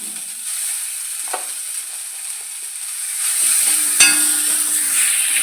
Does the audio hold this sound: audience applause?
no